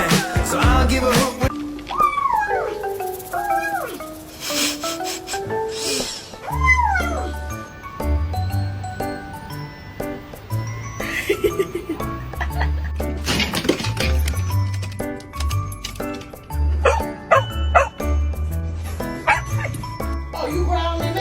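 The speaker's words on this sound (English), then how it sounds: "Oh, you growling at me?" A pet dog at bedtime makes rising, whining growls and then a run of sharp barks and yips, close and loud, with a few jingling sounds mixed in.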